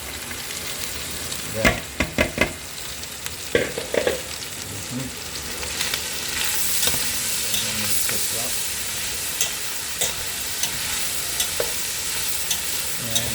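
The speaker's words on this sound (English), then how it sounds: "Now I'm going to go ahead and add the onions." Onions sizzling and frying in a pot with browned beef for a beefy vegetable stew, a steady hiss broken by several sharp stirring scrapes near the start and a single brief spoken word.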